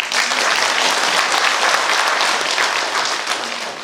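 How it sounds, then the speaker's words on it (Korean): Audience applause at a Gangjin County Saemaul association president's inauguration ceremony: a dense, steady wash of many hands clapping, sustained and loud for the whole stretch, easing slightly near the end. "우리 김영숙 사모님 열심히 좀 도와달라고 박수 한 번 부탁합니다."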